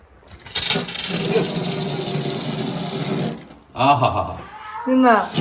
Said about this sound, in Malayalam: നമുക്ക് പോയി പൈപ്പ് ഓൺ ചെയ്തിട്ട് വരാം